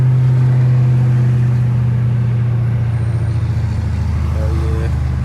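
A Dodge Charger drives along a road with a steady, loud low engine drone and tire hum from inside the cabin, holding an even pitch throughout with no speech.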